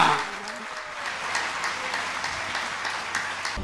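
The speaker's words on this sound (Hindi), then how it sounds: "जोरदार तालियां" An audience in Ashoknagar claps loudly as new office-bearers of a Jain pilgrimage committee are announced. Thick, continuous applause holds at a steady level throughout, with a low hum underneath.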